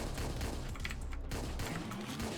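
Dual SMG fire from Hotline Miami 2: Wrong Number crackles in dense, rapid bursts that run almost unbroken, loud and close, over a driving game soundtrack.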